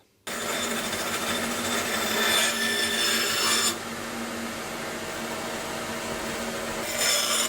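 Wood being sawn to length for a shelf, a steady rasping stroke that runs continuously and loudly up close, with a brief lull before the cutting resumes and intensifies near the end, no talking.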